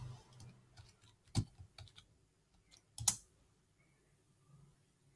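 Quiet keystrokes on a computer keyboard while a password is entered, scattered soft clicks with two sharper, louder taps, close and alone.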